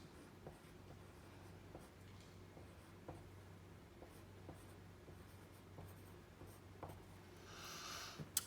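A marker writing on a board in a math class, making faint, regularly spaced taps and strokes, with a louder squeaky scribble near the end.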